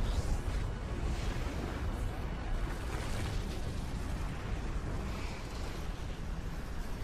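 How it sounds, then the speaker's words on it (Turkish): A sustained, roaring rumble of broadband noise fills the whole stretch, steady and loud like a prolonged in-game blast of an alien warship in the video game Crysis, with no talk over it. "Patlama mı o?"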